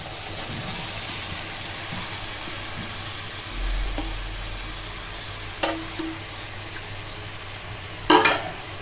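Vegetables frying in oil in a pan, with a constant sizzle under occasional stirring scrapes, a low rumble partway through and a sharp metallic clatter near the end.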